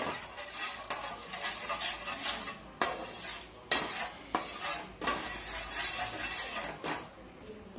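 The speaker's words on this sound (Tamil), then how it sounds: "நல்லா கட்டி இல்லாமல் கிளறி விட்டுக்கோங்க." Milk and maida flour being stirred into a white sauce in a pan, with rhythmic scraping of a spoon against the pan over a gentle continuous sizzle, close and clear.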